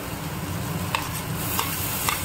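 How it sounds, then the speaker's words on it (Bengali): Chopped tomato and green chilli frying in a hot pan, a steady close sizzle with a few light spatula taps against the metal, and no talking. "তারপর টমেটো কুচি আর লঙ্কা একসাথে দিয়ে দেবো।"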